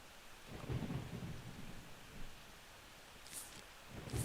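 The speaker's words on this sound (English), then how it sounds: "the lightning storm." Low thunder rumbles roll through a lightning storm in the Plants vs. Zombies game on PS3, over faint steady rain, with a few sharp crackles near the end; no talking.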